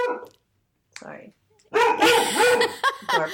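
Several short barks from a dog at home come in bursts, close by and mixed with people talking.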